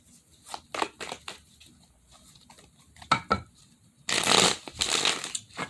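Tarot cards being shuffled, several separate riffling bursts early on and then a longer, louder run of card shuffling near the end, close and crisp, with no talk.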